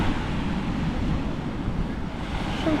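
Steady broadband rush of ocean surf at Piha Beach, New Zealand, with wind buffeting the microphone; a continuous, fairly even wash of waves with no clear individual breaks and no voices.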